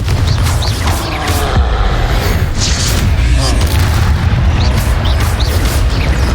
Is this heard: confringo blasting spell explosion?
yes